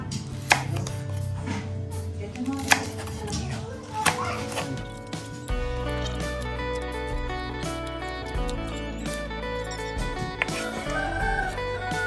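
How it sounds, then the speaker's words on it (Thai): Knife chopping bell peppers on a cutting board, sharp taps at scattered intervals over steady kitchen background and music. "หั่นพริกหยวกเลยครับผม"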